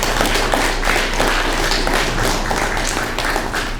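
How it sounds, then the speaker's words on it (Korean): A church congregation claps in welcome during a worship service, a steady, dense patter of many hands filling the room throughout without a break. "우리 박수 한번 해드리겠습니다."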